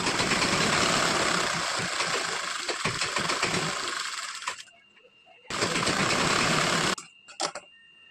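Electric sewing machine stitching lining fabric onto a blouse, a loud steady whirring run for several seconds, a short pause, then another burst and a couple of brief taps at the end.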